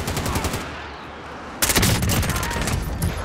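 Rapid automatic gunfire in a video game, loud and dense, with a brief lull before a heavier burst of continuous shots that runs to the end.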